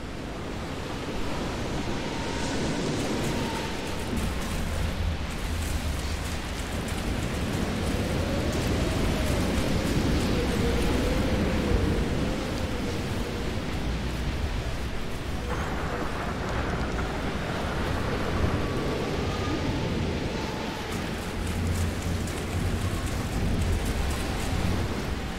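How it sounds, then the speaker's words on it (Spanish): Heavy rain and rumbling storm noise in the video game Outriders, a steady, dense wash with deep low rumble running unbroken for the whole stretch, with no voices. "Esta tormenta se pone cada vez peor."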